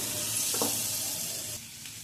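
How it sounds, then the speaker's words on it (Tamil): Grated coconut sautéing in a pan for a Tamil-style chutney, a steady close sizzle and hiss with a brief stir scrape partway through, then slightly quieter frying. "தேங்காய் சேர்த்து நல்லா வந்து வதக்கி விட்டுக்கலாம்"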